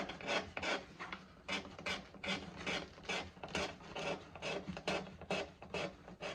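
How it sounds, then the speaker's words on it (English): A hand scraper rasps repeatedly across a guitar's finish, stripping it back before the fretboard is glued on; steady, close back-and-forth strokes in an even rhythm with no talking. "I'll get a scraper down. Take the finish off here."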